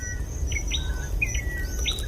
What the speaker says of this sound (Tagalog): May mga ibon din pala dito